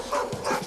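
A dog makes a short, close vocal burst, a bark or yelp, lasting under a second.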